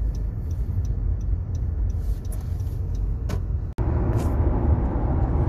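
Heavy road traffic crawling toward a tunnel on the way into Kuala Lumpur, a constant rumble of car and bus engines with a brief thump partway through, heard from inside a vehicle.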